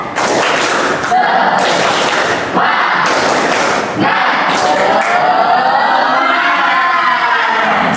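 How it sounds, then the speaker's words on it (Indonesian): A biology class doing tepuk semangat spirit clapping together, loud bursts of group claps in a rhythmic pattern with short pauses between, followed by a collective shout and cheer from the students. "Tepuk semangat bersama-sama."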